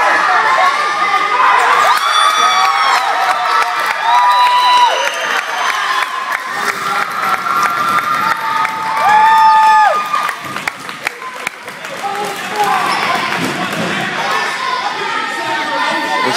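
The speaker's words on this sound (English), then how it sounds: "This crowd down here is going nuts." Basketball crowd in an arena cheering wildly during a comeback, loud sustained roaring and shouting with whistles and high yells rising and falling throughout, a voice or two audible within the din.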